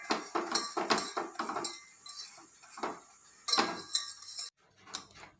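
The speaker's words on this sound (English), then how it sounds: "Now we're going to turn on the flame and we're going to continuously whisk it." Metal whisk clinking and scraping against a pot as butter is whisked over a low flame for chocolate cake, quick irregular bursts of clatter close by, pausing briefly before a louder run.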